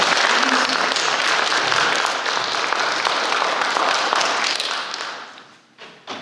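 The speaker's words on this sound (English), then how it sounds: "let's give them a round of applause for presenting" Applause from an audience at a future teachers meeting, thanking a parent panel: steady dense clapping for about five seconds that thins and fades out near the end.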